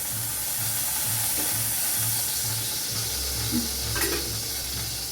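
Onion frying in a pan on a gas stove gives a constant loud sizzle and hiss with a pulsing low rumble beneath and a few brief clatters near the end, with no one speaking.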